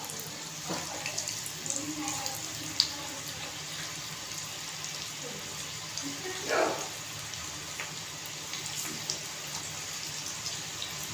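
Onion bhaji batter dropped in small spread-out portions into hot oil in a small kadhai gives a steady crackling sizzle with occasional sharper bursts, moderately loud and continuous.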